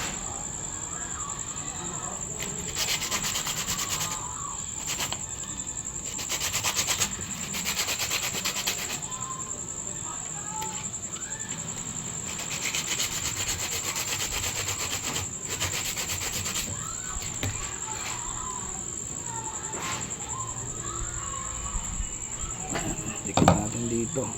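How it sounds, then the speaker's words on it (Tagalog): Sandpaper is rubbed against PVC pipe in repeated short scraping strokes, a dry rasping that comes in bursts with pauses between, set against a steady high insect-like hum in the background. "Liha lang natin para didikit siya sa"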